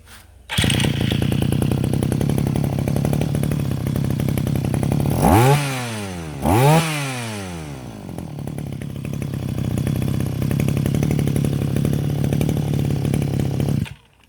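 A Japanese brush cutter with a G2K engine idles steadily, then revs sharply twice in quick rising bursts before settling back to a buzzing idle and cutting off.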